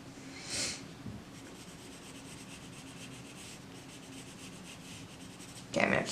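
Dark brown colour is rubbed onto paper, producing soft dry scratchy strokes at close range, with a couple of louder brisk scrubbing bursts at the start and end and a low quiet hiss between them.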